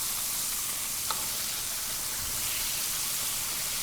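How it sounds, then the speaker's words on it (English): Quail pieces fry in hot oil for a fried quail and cheese grits dish, giving a steady, even sizzle throughout with one brief sharper crackle, close and alone with no talk. "So we want to keep frying these up like that."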